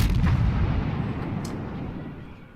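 A heavy naval gun salvo booms from the Russian cruiser Bogatyr in the World of Warships naval battle game, one loud, deep blast that rolls away into a fading rumble.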